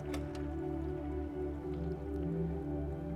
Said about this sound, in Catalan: engegaré el cronòmetre en 30 segons a veure quanta aigua baixa